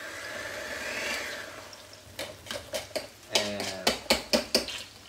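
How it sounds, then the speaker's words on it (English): Hamburger steak ingredients being chopped at low speed in a kitchen, first a soft whirring, then a run of quick sharp clattering strikes in an uneven rhythm, loud and close with no talking. "we're going to start chopping these up."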